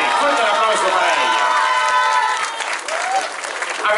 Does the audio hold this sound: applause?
yes